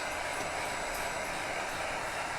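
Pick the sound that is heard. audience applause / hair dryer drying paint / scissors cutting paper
hair dryer drying paint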